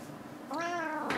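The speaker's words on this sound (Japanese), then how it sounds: "ゴロゴロ言ってるけど、そのゴロゴロ言ってる理由がよくわかりません" A house cat gives a single short, clear meow up close after a faint breathy lead-in, with no talking.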